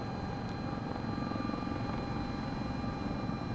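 Sikorsky S-76 helicopter flying in Microsoft Flight Simulator, a steady, loud rotor and turbine drone with a constant whine, unbroken for the whole stretch.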